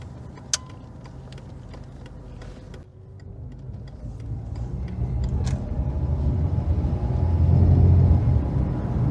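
Inside a Mercedes-Benz 190E (W201) on the road, a low engine and road rumble steadily builds louder, with a few small clicks and rattles from the cabin near the start and no voices.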